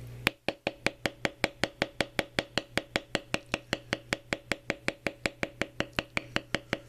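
A mallet taps a beveling tool on leather in a fast, even rhythm, about thirty crisp close knocks in a row, quiet and alone.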